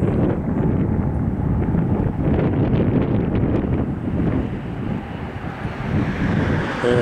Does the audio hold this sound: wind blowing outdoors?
yes